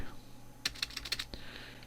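Quick keystrokes on a computer keyboard, a short cluster of close clicks typing a SQL query, faint against quiet room tone.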